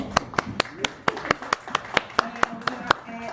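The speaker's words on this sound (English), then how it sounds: "Clap for that." A small live audience at the Hotel RL in downtown Baltimore claps sparsely, with about a dozen distinct, evenly spaced claps ringing out close and sharp rather than blending into full applause.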